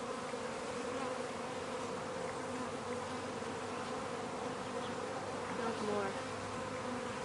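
Honeybees droning at a hive with a new queen while being fed sugar syrup, a dense, even buzz held throughout, with a few quiet spoken words.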